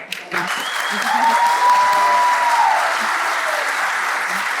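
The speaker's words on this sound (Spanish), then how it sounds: "Un aplauso para nuestra bella José." Applause from a seated audience at a literary talk on writing mythology, a steady dense wash of clapping that swells and holds for several seconds with no voices over it.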